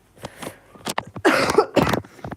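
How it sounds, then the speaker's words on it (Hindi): A few short, harsh coughs in quick succession, close and fairly loud, with a throat-clearing sound in between. "थोड़ा खांसी आ रही है।"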